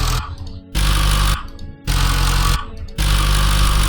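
Vehicle engine sound samples from a Unreal Engine 5 vehicle asset, played one after another as loud, buzzing, continuous engine drones in short blocks with brief dips between them, the pitch shifting from idle toward high speed.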